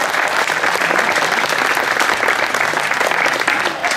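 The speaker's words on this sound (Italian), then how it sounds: "Applauso." Loud, steady applause from a spectator crowd at a car slalom race in Bagnara Calabra, continuous and dense with no clear talk on top.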